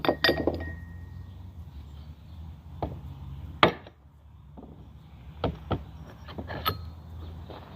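Loosened screws from a Yamaha QT50 final drive being removed and tossed, making a string of sharp metallic clinks and taps spaced irregularly, loud and close in a quiet workshop.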